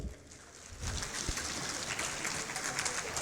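Audience applause for the panelists at a literary festival session, a steady wash of clapping that swells after the first second and continues at an even, dense level.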